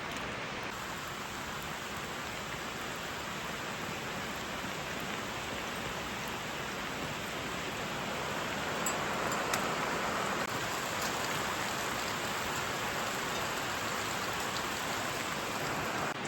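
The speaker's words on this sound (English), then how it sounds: "The weather app is calling this light rain." Rain falls steadily and fairly heavily, a dense continuous hiss of drops on surfaces that swells slightly partway through, with no voices.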